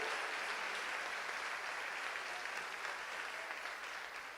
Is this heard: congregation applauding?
yes